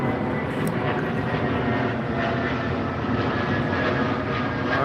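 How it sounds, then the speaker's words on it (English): A plane landing gives a steady, loud engine roar with broadband rumble and a faint high whine, continuous and unbroken for several seconds. "There's a plane landing."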